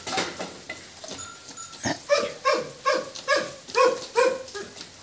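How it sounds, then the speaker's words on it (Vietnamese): A Bac Ha shaggy dog growls defensively in a series of loud, close, rhythmic pulses that grow stronger and more regular, with no talking over them. "em nó còn gầm gừ cơ, nó rất phòng thủ mọi người"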